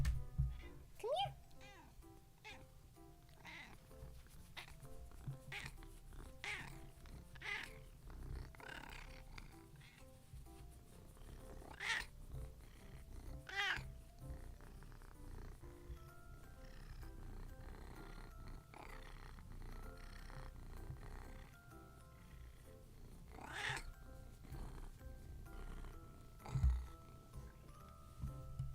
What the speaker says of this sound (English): my cat is here to say hello, everyone. Take a listen.